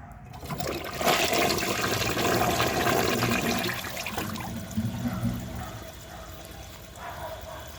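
A 1998 Western Pottery toilet flushes with a dish towel in the bowl: a loud rushing surge of water swirls and drains for several seconds, then eases into a softer gurgling refill trickle.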